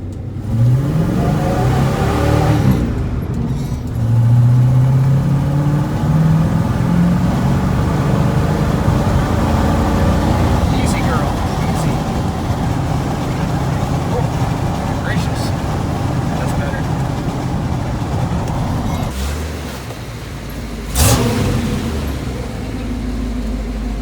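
A Chevy square-body farm truck with a 454 big-block V8 revs hard while driving, a loud, close, rising and falling engine roar with gear-change dips, and a voice talks over it.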